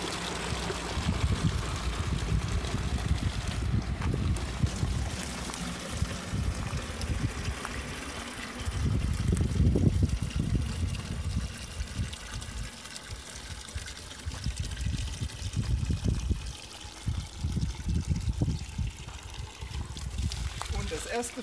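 Water running from a village fountain freshly turned on for the season in Berstadt, Germany, a continuous splashing, trickling flow heard throughout with someone talking over it.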